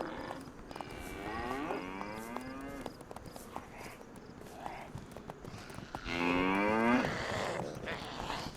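Cattle low in the survival game DayZ: two long bovine moos, one early and a louder one later, over a soft ambient background with no talking.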